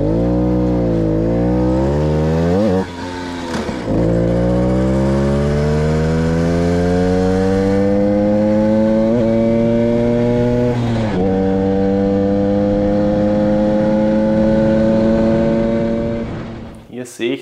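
A Puch Supermaxi moped with a 3-speed hand-shift gearbox revving loud and close, its engine pitch climbing steadily, then dropping sharply at each gear change before rising again, ending with a brief sputter as it cuts out.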